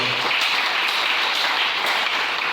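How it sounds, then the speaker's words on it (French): A church congregation applauds to acclaim the Lord, a dense, steady wash of many hands clapping throughout, loud and close with no pauses. "Est-ce qu'on peut acclamer le Seigneur?"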